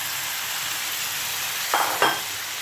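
Chopped potato, eggplant and flat beans hit a pan of hot oil, a steady bright sizzle swelling with two quick splashing bursts as they are poured in, close and with no voices.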